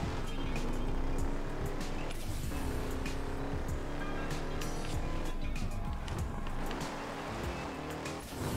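Engine roar and screeching tire squeal from an e-brake spin turn in the Burnout Paradise racing game, loud and continuous, with skidding swells and a faint voice talking underneath.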